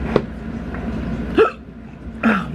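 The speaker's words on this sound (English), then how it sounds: "I got the hiccups." A person gives three short, sharp hiccups spaced across a couple of seconds, close up and distinct against quiet room background, with no talk.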